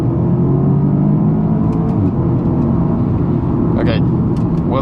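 A 300hp car accelerates hard with a steady loud engine rumble throughout. Brief faint clicks and higher noises cut in near the end.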